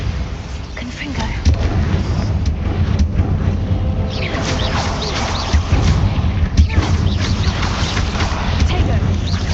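Spell explosions from Bombarda and Confringo in Hogwarts Legacy, heavy booming blasts and crashing impacts over a dense rumbling game soundscape, with a voice speaking between them.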